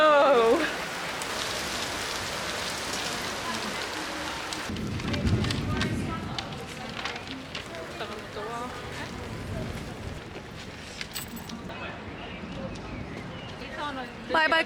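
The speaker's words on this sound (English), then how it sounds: "It has just started to rain." Rain falling in Rome near the Colosseum, a steady hiss of drops on surfaces with a brief low rumble, heard under people talking and moving nearby.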